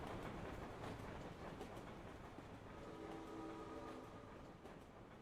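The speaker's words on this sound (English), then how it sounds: "let's go to the plains as we casually jump out of a moving train" A moving train in the video game Shadow Hearts rumbles steadily throughout, a dense, continuous roar with faint rhythmic clatter and a brief tonal whine partway through, with no voices.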